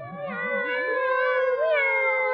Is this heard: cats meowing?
yes